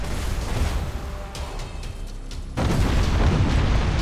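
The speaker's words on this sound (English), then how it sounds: "Initiate Thunderhawk bombardment." A Thunderhawk bombardment in the space battle game Battlefleet Gothic Armada, Dark Angels against Orks, gives a continuous deep rumble of explosions that swells louder partway through.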